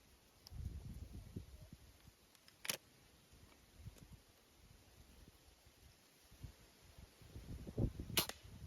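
An IZh-38 air rifle fires pellets: two sharp, faint cracks a few seconds apart stand out from quiet background rustle and handling noise.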